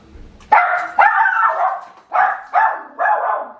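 A dog barks close by indoors, a burst of five or six sharp, loud barks in an uneven rhythm, with no talking over it.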